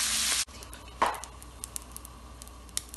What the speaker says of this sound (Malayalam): നമുക്കിത് കുറച്ച് ഇങ്ങനെ ഇളക്കി കൊടുക്കാം. അപ്പോൾ നല്ലോണം ഇത് വഴണ്ടു വരട്ടെ.